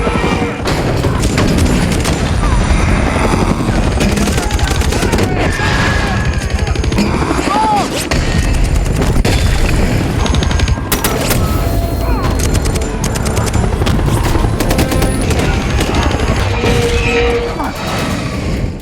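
An action-film helicopter assault from G.I. Joe: Retaliation roars with dense, continuous gunfire bursts and booming explosions, loud and chaotic throughout with no pause.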